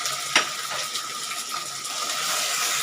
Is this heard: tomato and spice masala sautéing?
yes